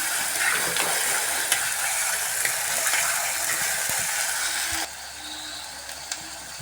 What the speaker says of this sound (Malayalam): ഇതെല്ലാം കൂടെ അരിഞ്ഞതാണ് ഇതൊന്ന് നന്നായിട്ട് വഴറ്റിയെടുക്കാം